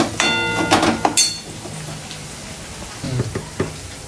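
Vegetables sautéed with a spoonful of turmeric in a pan give a crackling sizzle with scraping stirs, loud at first, then quieter with a few more clattering stirs.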